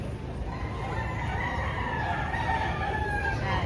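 Several gamefarm roosters crow at a distance, their calls faint and layered over steady outdoor noise and a low background hum.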